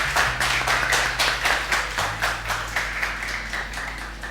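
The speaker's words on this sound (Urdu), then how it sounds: "آئیے جی, بہت ساری تالیاں ان کے لیے" Studio audience applause during a televised Ramadan iftar show, a burst of rhythmic clapping that holds steady for several seconds over a low background hum.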